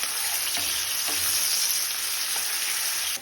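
Onions sizzle and crackle in hot oil for a bitter gourd curry, a loud continuous frying hiss with a few soft stirring knocks and no voices.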